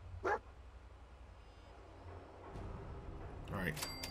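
A companion dog in the video game Fallout 4 barks once near the start and again near the end, with game ambience between the barks and a voice talking over it.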